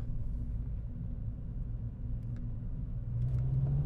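A Renault Wind 1.6 with 133 hp pulls at full throttle; a low, fairly quiet engine rumble rises in pitch toward the end as revs climb, with no voices.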